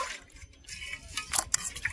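Water splashes and trickles while cooking pots and vessels are rinsed outdoors near a lake, with soft gurgles and a few sharper splashes and drips, close by and moderately quiet.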